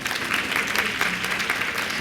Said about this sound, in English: That's to be applauded